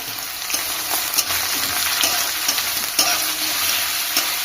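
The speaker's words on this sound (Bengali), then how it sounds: "আর তেজপাতা শুকনো লঙ্কা দিয়ে দিয়ে কুচুনো গুলো দিয়ে দেবো একে একে দিয়ে লাল লাল করে নেড়ে নিতে হবে" Chopped onions sizzle and crackle steadily in hot oil with bay leaf and dried chili while being stirred, a loud close frying hiss with occasional spatula scrapes, for ghugni.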